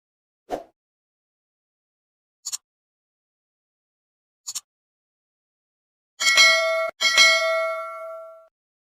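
A notification bell sound effect: three short soft dings spaced about two seconds apart, then two louder, longer ringing bell tones that sustain and fade, clear and alone with no voice.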